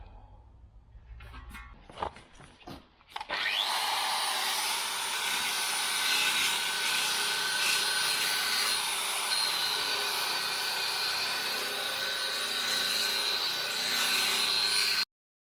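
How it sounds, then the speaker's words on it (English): A flat disc tool polishes the metal body of a 1947–55 GMC/Chevy truck cab. A few knocks come first, then a loud steady whirring drone runs until it cuts off abruptly at the end. "The flat disc tool is more of a polisher than a grinder."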